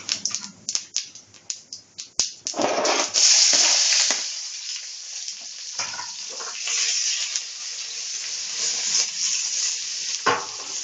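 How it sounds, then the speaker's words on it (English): Onions hit hot oil with spluttering cumin seeds in a pan, giving a burst of sharp crackles and clatter, then a loud, steady sizzle that settles into continuous frying with occasional pops. "So once the cumin seeds started spluttering, it's time to add the onions."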